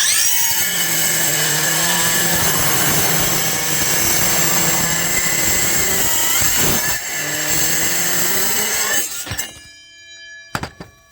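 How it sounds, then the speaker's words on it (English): A Makita metal-cutting saw bites through 2-inch galvanized pipe with a loud, sustained, harsh grinding whine lasting about nine seconds. It briefly dips mid-cut, then stops, followed by a few metallic clanks as the cut piece drops. "we're going to see if this Makita saw can cut through this 2-inch piece of galvanized pipe"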